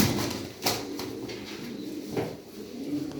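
Young racing pigeons in a loft cooing softly amid bursts of wing flapping and shuffling, fairly close and continuous, with no talk.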